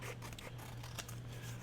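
Scissors snipping through paper scraps, trimming a strip slightly narrower to fit a journal pocket; a few soft cutting and rustling sounds, close and quiet over a steady low hum.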